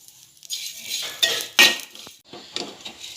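A utensil scrapes and clinks against a hot pan while dried shrimp (kolim) are stirred. The sharp metallic strokes come close up in an irregular rhythm.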